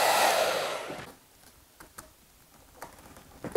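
Blow dryer heating hot glue on a hockey stick grip, a loud close whooshing roar that cuts off after about a second, followed by quiet with a few faint ticks and knocks.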